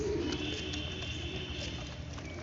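Pigeons coo at a drinking spot, a low continuous burbling chorus, loudest at the start and then steady and moderately near.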